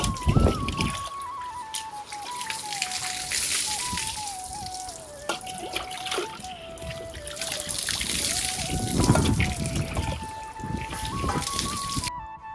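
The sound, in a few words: water being poured over a tank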